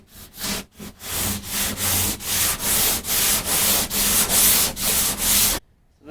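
Rhythmic back-and-forth strokes of a sanding block across primer on a car body panel, about a dozen loud, even scrubbing passes close by, ending abruptly in near silence.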